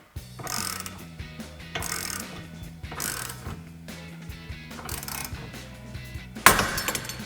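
A hand ratchet tightening a ball joint separator on a 1994-2004 Mustang's suspension, clicking in several steady bursts of pawl ticks with brief pauses, ending in a sharp metallic pop.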